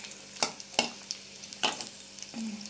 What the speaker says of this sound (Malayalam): എണ്ണ ഒഴിച്ചിട്ടുണ്ടേ, നമുക്കതിലേക്ക് കായം ഇട്ട് കൊടുക്കുക.